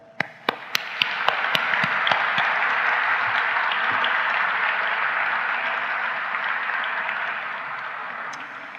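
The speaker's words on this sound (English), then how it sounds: "a round of applause." Applause from a seated audience at the 2023 Pulitzer Prize dinner, opening with a few separate claps that swell into sustained, full clapping from a large room before slowly tapering.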